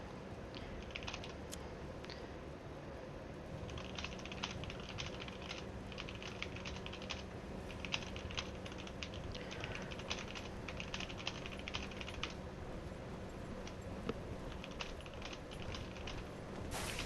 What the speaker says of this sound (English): And I'm just typing it in here.